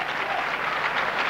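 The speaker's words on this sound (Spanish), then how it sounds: "Aplaudido, por supuesto, la gente en pie" A football stadium crowd applauds a substituted player at a Spanish league match, a broad, steady wash of clapping that fills the space evenly from start to finish, loud and continuous with no distinct voices.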